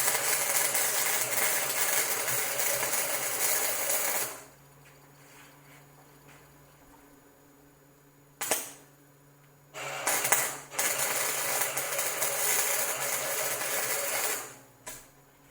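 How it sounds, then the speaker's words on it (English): Arc welding a cap head bolt onto a small steel backing plate for a propane tank holder: steady loud crackling buzz in two long runs separated by a quiet pause with a few brief sparks, no talk. "go ahead and weld this bolt, cap head bolt onto this little plate here"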